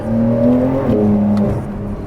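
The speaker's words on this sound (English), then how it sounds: "it makes cool turbo noises" A Porsche 911 Carrera 4S on a test drive gives a steady engine drone with a rising then settling tone and faint turbo whir, loud and close from inside the car, with no talk over it.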